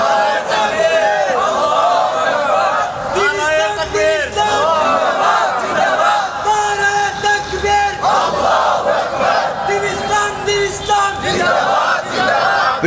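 Large crowd at an Islamic religious gathering in Feni chanting slogans in unison with raised hands, loud, close and rhythmic, the massed voices rising and falling in repeated call-like phrases.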